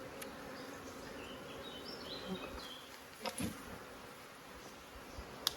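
Honey bees buzz around an opened apiary hive while colonies are combined with newspaper, a steady insect drone close by with a few brief louder bumps and no talk.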